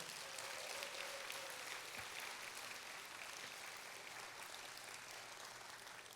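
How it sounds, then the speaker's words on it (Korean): Faint, distant audience applause fills a hall at the 30th Gwangju Women's Conference, a steady soft wash of many hands clapping that holds evenly throughout. "조은영 우리 원장님께 큰 박수 한번 보내주십시오."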